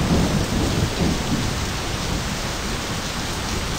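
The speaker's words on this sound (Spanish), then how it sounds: "Llueve por putas partes." Steady rain mixed with a low rumble of thunder in the driving game My Summer Car, a constant broadband wash with no talk over it.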